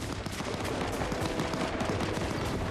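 Fortnite gunfire rattles out in rapid bursts of shots at moderate loudness across a few seconds, with no talk over it.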